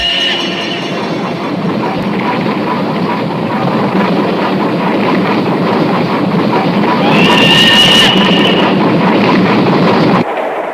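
A cartoon train set in the snowy Alps runs along with a loud, steady rumbling clatter, a bright whistle-like squeal rising near the end before the noise cuts off.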